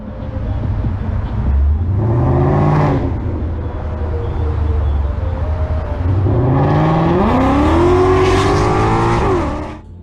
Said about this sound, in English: The Mustang driver's been wreaking havoc on the roads, driving off to the side and speeding his way through.